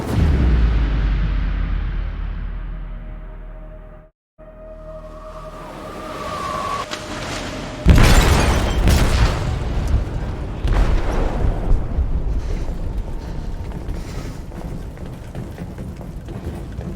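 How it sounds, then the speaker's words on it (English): A deep rumbling boom from an explosive detonating aboard a ship in Detroit: Become Human, a sharp heavy blast partway through that rolls into a long, loud, crackling roar and settles into a low rumble. "They detonated an explosive in the hole."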